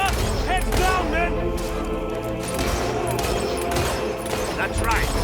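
Gunfire crackles through a Fable 3 battle, dense bursts of shots layered with booms and thuds over busy in-game chatter, steady and loud throughout.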